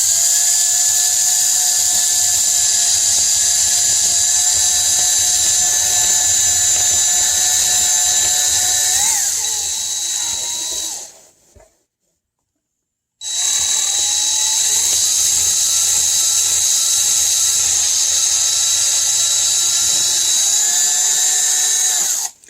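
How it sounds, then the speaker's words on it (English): A power drill boring into the dash of a Peterbilt 379 truck, a loud steady high-pitched whine that runs continuously, stops briefly for about two seconds, then resumes at the same pitch. "So you have to drill on the side."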